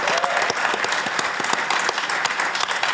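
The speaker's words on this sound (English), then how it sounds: "One more round of applause" Dense, steady audience applause at a finance conference fills the whole stretch, loud and continuous with many hands clapping at once, and faint crowd voices mixed in.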